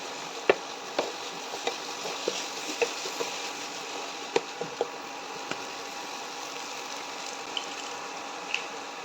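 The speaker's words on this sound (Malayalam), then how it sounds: "1/4 ടീസ്പൂൺ ഉലുവപ്പൊടി. നല്ലപോലെ വഴറ്റി കൊടുക്കുക." Watermelon rind pickle with fenugreek powder is sautéed in a pan, a low steady hiss broken by scattered light spoon clicks and taps, moderately quiet, with no talking.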